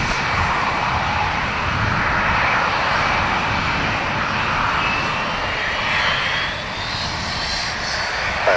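A fixed-wing airliner takes off from runway 10 right at Dublin Airport, its engines a steady, loud, broad roar held throughout with no voices.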